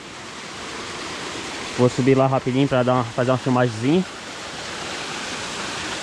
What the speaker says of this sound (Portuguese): mais uma cachoeira.